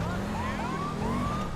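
A police siren in the video game GTA 5 wails in rising and falling sweeps over a steady low engine rumble, loud and continuous with no talking, in heavy traffic.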